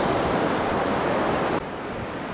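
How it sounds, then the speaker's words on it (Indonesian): Steady broadband rush of wind and breaking surf on a beach at dawn, loud and continuous with no voices, dropping slightly in level near the end. "Saya mau mencuci kaki saya sebentar di pinggir pantai sambil menikmati angin yang berhembus di pagi hari."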